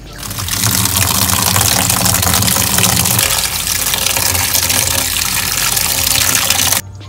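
Water gushes steadily from a tap or jug over a bowl of seven Jamaican herbs being soaked to clean them, a loud, continuous rushing pour that runs almost the whole time and stops abruptly near the end.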